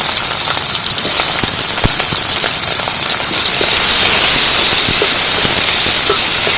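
Bay leaves with black cumin and black sesame seeds hitting hot oil, a loud continuous close-up sizzle and hiss dotted with sharp crackling pops throughout, no voices.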